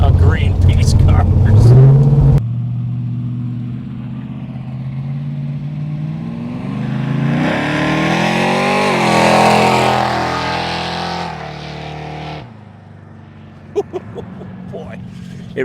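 A 1978 Chevrolet Malibu engine running while the car is driven, revving up and pulling hard with a rising, loud drone, then easing off, with people talking inside the car before and during.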